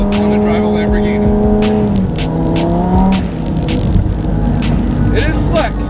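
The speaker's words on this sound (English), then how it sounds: "it's fun to drive a Lamborghini." A Lamborghini drives on an icy, snow-covered road during a snowstorm, its engine droning loudly and steadily with shifting revs and scattered sharp knocks and thumps, while someone talks over it.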